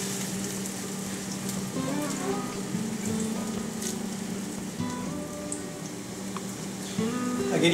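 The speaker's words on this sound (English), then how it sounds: "deep fry the chicken cordon bleu, you just want to pan sear it" Chicken cordon bleu pan-searing in shallow oil in a frying pan, a steady crackling sizzle that continues throughout with clinks and scrapes of cookware, getting slightly louder near the end.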